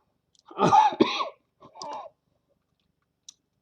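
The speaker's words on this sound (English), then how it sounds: "Excuse my cough." A single harsh cough followed by a smaller second cough, close up and otherwise quiet apart from a faint click at the end.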